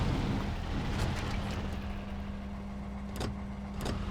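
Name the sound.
truck engine accelerating in the video game SnowRunner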